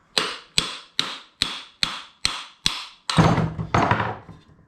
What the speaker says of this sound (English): Give this a knock.